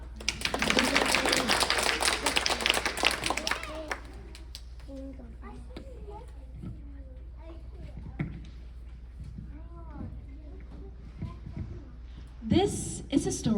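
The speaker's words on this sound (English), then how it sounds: "Can I get a little clap?" Audience clapping at a Symphonics concert of Beauty and the Beast, a loud burst of applause at the start that fades into quiet rustle, a voice speaking, and a short renewed clap near the end.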